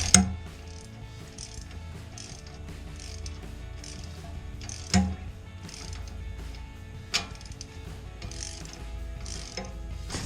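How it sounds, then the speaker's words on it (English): A torque wrench tightening a tie rod nut on a Jeep Wrangler JK, with repeated close ratcheting clicks and a few sharper clacks over a quiet background hum. "Let's go back with the torque wrench here."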